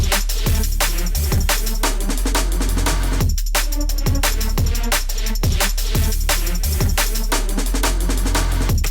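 A gritty, distorted, filtered neurofunk synth lead made in Vital plays over pounding kick drums and a dense electronic beat, loud and continuous with a brief dropout midway.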